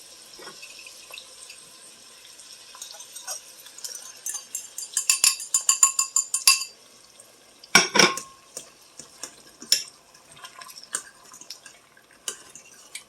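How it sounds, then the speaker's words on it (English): Eggs poured into a Dutch oven and stirred with hash browns and onions. Close metallic clinks and scrapes of a utensil against the pot come in a busy cluster midway, then sparser taps. "I'm going to dump the eggs on in."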